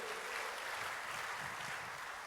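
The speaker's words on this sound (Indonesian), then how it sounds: "let's give Xian Hui a big round of applause." A crowd at a church youth gathering applauds steadily for a young man, a dense even wash of clapping held at a fairly faint, distant level throughout.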